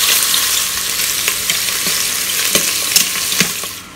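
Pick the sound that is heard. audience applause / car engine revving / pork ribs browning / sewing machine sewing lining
pork ribs browning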